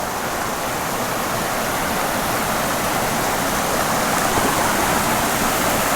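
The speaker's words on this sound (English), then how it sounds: "Nice little rapids." Rushing river rapids near waterfalls in Colombia give a steady, broad, close wash of flowing water, unbroken and without voices.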